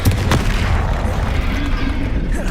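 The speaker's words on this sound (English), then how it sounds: "Exploding." A spell blast goes off in the Hogwarts Legacy game, a loud low boom at the onset followed by rumbling battle noise that fades over a couple of seconds.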